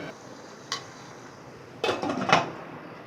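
Popcorn kernels being stirred in a pot give a few scraping, rattling strokes, one short scrape early and then a clustered burst of clinks and rustles, fairly quiet and close.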